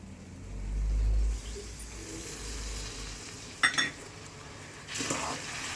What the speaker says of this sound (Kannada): ಹಾಲು ಹಾಕಿ ಮತ್ತೆ ಹಿಂಗೆ ಕೈ ಆಡಿಸ್ತಾ ಇರಬೇಕು.